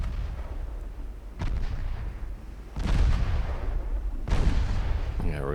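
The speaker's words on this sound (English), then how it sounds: "And Atlanta is firing." Warship guns in the naval game Ultimate Admiral Dreadnoughts fire in a series of heavy booming salvos, each loud blast rolling into a rumbling tail, with a brief burst of speech at the end.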